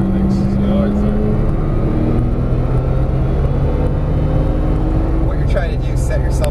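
A Porsche 911 Turbo S is driven hard and slid around a cone course; its engine drones loud and steady with shifting pitch throughout, while someone talks over it.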